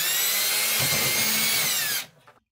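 A power drill boring holes into a fiberglass shower wall while a grab bar is being installed: a close, loud, steady whine that runs for about two seconds, then cuts off abruptly into near silence.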